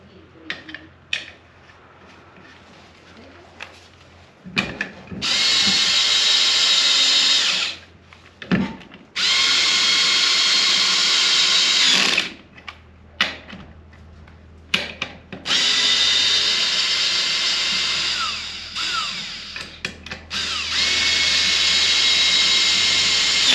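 A power tool tightens lug nuts on a 1963 Nova wheel, running in several long, loud, steady whirring bursts separated by short gaps with faint clatter.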